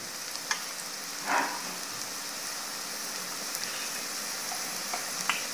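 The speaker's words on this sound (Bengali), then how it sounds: "মৌরিটা তেলে একটু ভেজে নেব" Fennel seeds fry in oil in a pan, giving a faint, steady hiss with a few soft crackles and one brief rustle, quiet and continuous with no talking.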